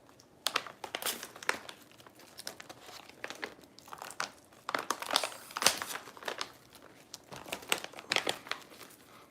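Crinkling plastic as a bag is torn open with teeth in a series of sharp, close ripping bursts, with no talking.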